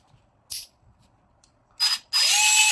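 A SATA screwdriver fitted with an 8 mm nut setter bit gives sharp ratchet clicks. There is one brief click burst, then a short rattle, then a longer sustained ratcheting run. The sounds are close and no one speaks.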